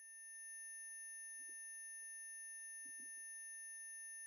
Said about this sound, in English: It felt like the ringing was growing louder.